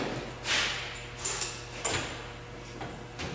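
A wooden door frame of a pine hunting blind is wedged into place, giving several close scraping slides and sharp knocks spread across a few seconds, with no talking.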